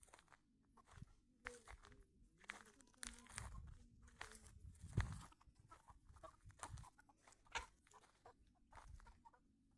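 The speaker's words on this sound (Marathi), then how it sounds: "कोंबड्या" Chickens cluck in short, scattered bursts at close range, mixed with rustling and crinkling sounds, with quiet gaps between calls.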